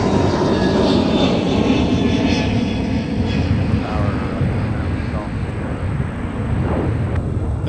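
An Airbus A320neo airliner's jet engines roar steadily at Minneapolis–Saint Paul airport, a broad sustained rumble with distant whine heard from outdoors, while a person talks over it.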